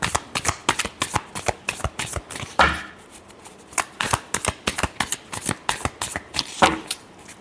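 Tarot cards being shuffled by hand in quick riffling bursts, a steady run of crisp flicks and slaps with one louder riffle near the middle, close and alone with no talk.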